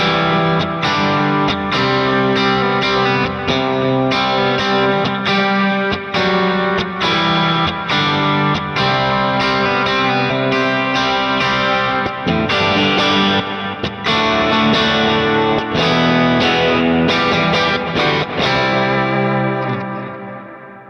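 Electric guitar played through a Kemper 65 England EF86 amp profile, a distorted, Vox-like tone with strong high mids, steady loud chords and riffs with effects and echo throughout, no talking.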